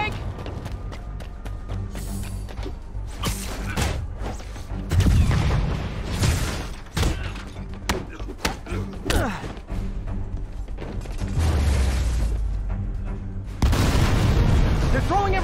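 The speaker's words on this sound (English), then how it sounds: "Rockets! Take cover!" Rocket blasts in Marvel's Spider-Man video game combat, a series of loud booming explosions and thuds erupting amid continuous action noise, with voices talking over the barrage.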